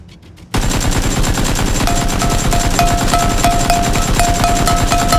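Sustained automatic gunfire in the PUBG battle royale game, a rapid, loud stream of shots that starts abruptly after a brief quiet moment and continues without a break, with metallic impact pings layered over it.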